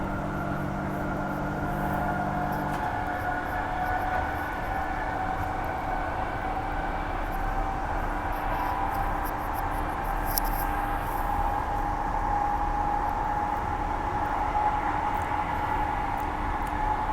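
A Transperth A-series electric train on the Armadale line rolls along between Perth and Armadale, a steady rumbling cabin drone with a rising motor whine and occasional faint rattles and clicks of the carriage.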